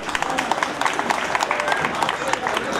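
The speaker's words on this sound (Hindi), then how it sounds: "अगर मेरे लिए भी तालियां बजा देंगे तो बड़ा अच्छा रहेगा।" Audience applause at the 75th Independence Day celebration at the Banaras Locomotive Works in Varanasi: a dense, even patter of many hands clapping from a sizable crowd, with voices mixed into the clapping.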